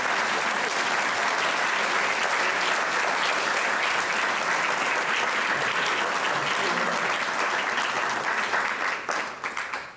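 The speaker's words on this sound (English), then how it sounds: "I hope you'll give all our speakers a chance and some applause" Sustained applause from an audience thanking speakers at the close of a CARTA academic symposium on human-climate interactions and evolution, loud and dense throughout, tapering off at the very end.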